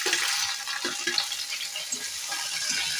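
Onions frying in a pan with cumin for a lobia and potato curry, tomatoes going in next; a steady close sizzle with a few soft stirring scrapes and no talk.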